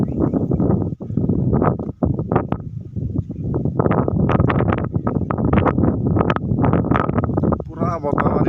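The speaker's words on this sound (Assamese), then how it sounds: "পুৰা বতাহ মাৰি আছে ওপৰত" Strong wind buffets the microphone on a high hilltop above a river, a dense continuous roar with gusty bursts and rustling throughout, with nothing else standing out.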